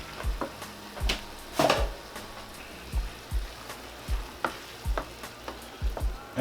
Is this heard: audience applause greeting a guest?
no